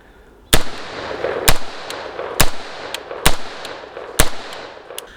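An AR-15 rifle with a Trinity Force silent buffer fires steel case ammunition, five loud sharp gunshots in a fairly quick, steady sequence, each with a short echoing tail, close by and without talk.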